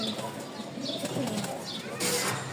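Pigeons, Rajshahi flying breed, murmur and shuffle against a busy background hiss, with faint coos and a brief flutter of wings near the end.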